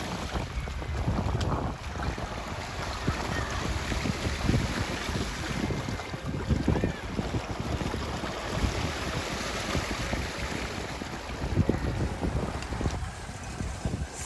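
A sailboat crossing a sound on the Intracoastal Waterway toward Norfolk takes building waves, with continuous wind buffeting the microphone and water sloshing and slapping against the hull throughout, no voices.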